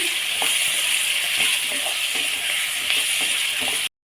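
Chopped tomatoes sauté with browned onions in a pan for a village-style greens dish, giving a steady loud sizzle with faint intermittent stirring clicks, then it cuts off abruptly.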